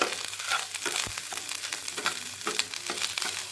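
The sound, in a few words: Kashmiri chili powder being stirred and fried in a pan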